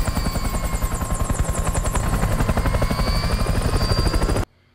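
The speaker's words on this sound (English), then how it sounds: "choppers are pretty maneuverable" A helicopter in the war film We Were Soldiers, its rotor beating in a loud, rapid, steady chop with a turbine whine over it, close by and continuous until it cuts off abruptly near the end.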